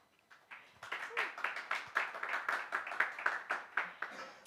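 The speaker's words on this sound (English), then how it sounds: "Please thank him with a round of applause." A modest conference audience applauds a main-stage presenter: clapping builds quickly from a few hands into a steady, rhythmic patter, fairly close and alone.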